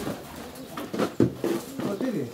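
A flock of more than forty pigeons coos in low, repeated throaty bursts close by while a person talks over them.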